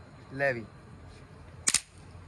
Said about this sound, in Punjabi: ਬੱਚਿਆਂ ਵਾਸਤੇ ਵਧੀਆ ਪਟਾਕੇ ਨੇ ਤੇ ਸੁਰੱਖਿਅਤ ਦਾ ਪਟਾਕੇ ਨੇ ਇਹ ਤੁਸੀਂ ਥੱਲੇ ਹੀ ਚਲਾਉਣੇ ਨੇ